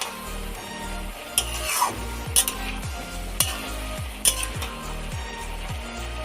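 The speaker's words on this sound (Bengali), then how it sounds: "এরপর এটাকে একটু নেড়ে নেব এইভাবে।" Vegetables, ash gourd with prawns in a Bengali-style dish, stirred in a pan, giving several scraping clacks spaced over a steady low hum, with faint sizzling underneath and no talking.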